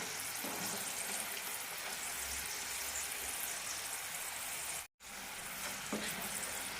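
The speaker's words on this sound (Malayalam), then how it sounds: "രണ്ട് മിനിറ്റ് കൂടി വറുത്തെടുക്കാം" Chickpeas deep-frying in oil for a masala fry make a continuous, even bubbling sizzle close by, with faint utensil touches and a momentary gap partway through.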